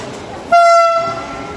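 A passenger train pulls into a station platform on a Biratnagar to Puri journey, sounding one loud, sustained horn blast that starts abruptly and fades over about half a second above a low rumbling background.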